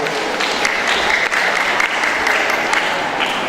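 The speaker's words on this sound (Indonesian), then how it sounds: "Beri tepuk tangan untuk regu B." Sustained applause from the audience at a school quiz competition semifinal as a team's score is announced, a loud, even rattle of many hands clapping throughout.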